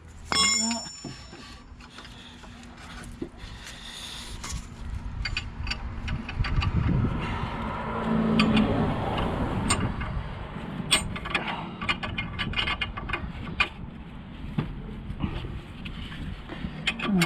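A bolt is spun back down by hand on threads wetted with WD-40 during MoT repair work on a 2009 Mercedes-Benz W204 C200, giving close, light metallic ticking and scraping in quick irregular bursts over a low workshop background.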